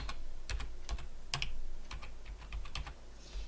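Password being typed on a computer keyboard: a quick burst of irregular, light key clicks in a quiet room, with no talk.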